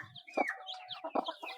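Chicken clucking up close on a farm, a few short throaty clucks in quick bursts with slightly fuller calls near the middle and end, heard alone without voices.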